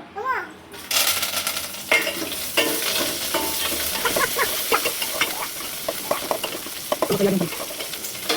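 Mustard seeds fry and sizzle in a pan for tomato rasam, a steady close crackle with scraping stirring strokes and small pops throughout.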